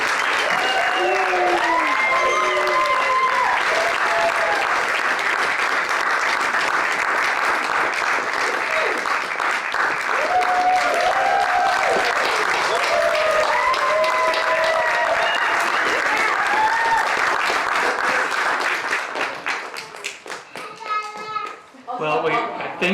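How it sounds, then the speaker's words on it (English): Loud, sustained audience applause after student poetry recitation performances at a competition, with children's voices chattering through it, thinning into scattered claps near the end. "thank you for that round of applause for these wonderful performances"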